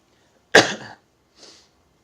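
A single sharp sneeze bursts out in a quiet classroom during a math lesson, followed a moment later by a fainter, brief trailing exhale or sniff.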